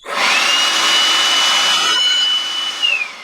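Cordless electric fan on a Makita-compatible DIY battery whirs in a loud, steady rush of air with a thin motor whine, close by, tapering off toward the end.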